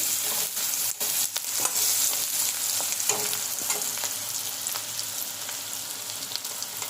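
Dried fish curry sizzling loudly in a pan as garlic paste is stirred in, a continuous hiss of frying with scattered sharp crackles and spoon scrapes, close up and without talk.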